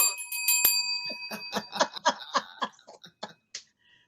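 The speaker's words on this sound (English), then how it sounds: "Gotta ring my bell on that." A bright bell rings a few quick times at the start, followed by short bursts of laughter close by.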